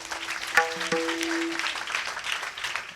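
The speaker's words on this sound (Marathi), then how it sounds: "वारकऱ्याकरता टाळी वाजवा एकदा." Audience clapping at a Marathi kirtan in Sakat, Barshi taluka: a steady, dense patter of many hands that runs the whole time, with a brief sustained tonal note near the start.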